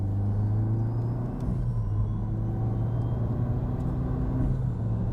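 A Peugeot 308 R HYbrid hot hatch drives under power with a deep, steady engine drone and rumble, heard from close by and alone, with slight shifts in pitch.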